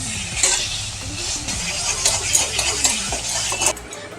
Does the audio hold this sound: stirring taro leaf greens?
yes